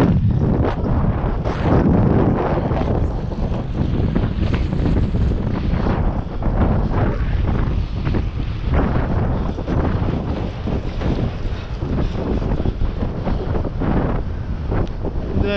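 Strong wind batters the microphone in loud, gusty roaring bursts that rise and fall continuously and drown out everything else.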